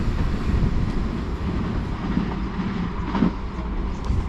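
Class 377 Thameslink trains pass through a West Sussex station with a steady broad rumble and a faint rhythmic clatter of wheels, holding a constant loud level throughout.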